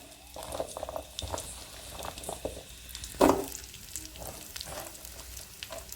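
Onions frying in a kadai for pirandai chutney give a soft, low sizzle with occasional small pops and one louder clatter, all faint and close.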